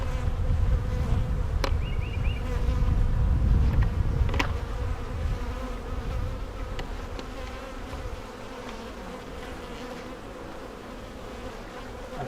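Honey bees buzzing around an open hive while it is being worked on, a steady dense drone with occasional sharper clicks from handling, close and continuous throughout.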